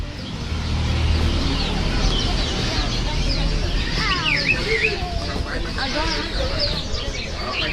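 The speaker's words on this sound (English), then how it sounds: "Wow, so many nice birdies." Many pet birds at a pet shop in Singapore chirp and call together in a dense, continuous chorus, with clucking fowl-like sounds and whistling calls rising over a busy indoor background.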